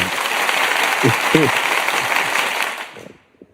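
Loud, dense applause from a large crowd with a couple of voices shouting over it, then fading quickly to near silence at the end.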